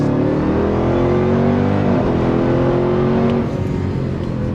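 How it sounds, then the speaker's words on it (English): A 2026 Dodge Durango Hellcat engine roars under full throttle, its pitch climbing steadily and dipping briefly at each upshift before rising again, loud and continuous throughout with no talk. "I've just buried my foot in the throttle a couple more times"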